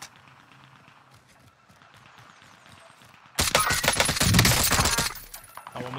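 A Cold War AK rifle with no grip fires in Warzone, played on PC. A long, loud, rapid burst cuts in sharply after quiet game ambience and then trails off.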